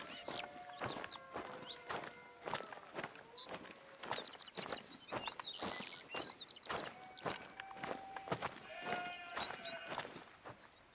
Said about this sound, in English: Oh, that's a sheep.